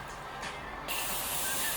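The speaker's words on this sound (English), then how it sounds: "For the finishing touch, I swear by this setting spray." A bottle of makeup setting spray mists onto a face in one sudden, loud, sustained hiss, preceded by a brief quiet moment.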